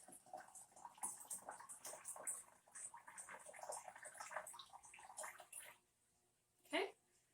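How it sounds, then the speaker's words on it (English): Hot water from a kettle is poured into a pressure canner up to the rim while canning beans: a steady splashing pour lasts about six seconds, then stops, followed by a brief clink. "I got my hot kettle of water. I'm going to pour up to the rim."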